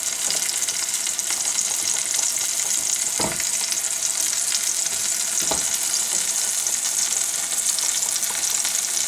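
Seafood fettuccine sauce being stirred in a hot pan, with a steady broadband sizzle and frying hiss throughout and two brief scraping knocks of the utensil against the pan.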